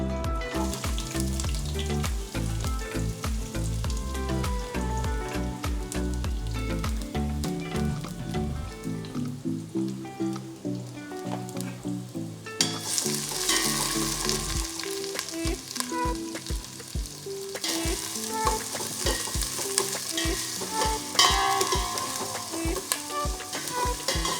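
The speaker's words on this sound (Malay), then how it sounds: "Kita kena tumis sampai bawang tu jadi golden brown ya." Garlic and onion sauté with pandan leaves in a hot pan for a cabbage chicken curry, giving a steady close sizzle broken by stirring scrapes and clatters.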